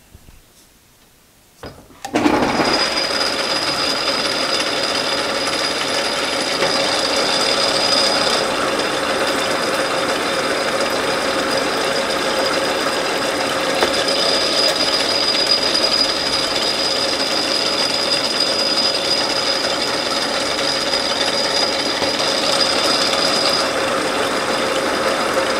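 A South Bend 11 lathe cutting threads, running with a steady loud mechanical whir and high whine after a brief quiet start, continuous and close.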